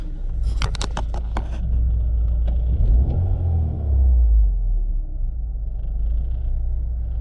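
A BMW E36 Compact with an M43 engine on a road test drive, its low engine rumble and road noise steady throughout, swelling slightly as it accelerates, with a few sharp clicks near the start.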